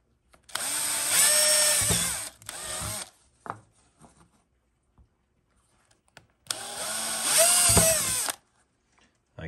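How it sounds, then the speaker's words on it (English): A power drill whirs loudly in two long bursts, drilling holes into a motorized bike's air filter, separated by a pause with a few light clicks and knocks. "So I would actually take a drill. I would actually drill"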